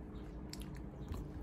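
Someone chews a crunchy snack close to the microphone, making a brief series of soft crunches and wet bites with no talking.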